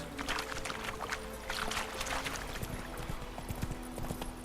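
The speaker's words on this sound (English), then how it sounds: "Let's get on the horse." Rhythmic hoof clip-clops of a horse on a hard surface in The Witcher 3: Wild Hunt, fairly quiet, repeating steadily over a soft background hiss.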